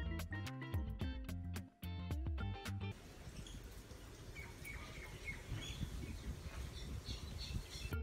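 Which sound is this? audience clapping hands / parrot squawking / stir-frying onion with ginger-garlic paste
parrot squawking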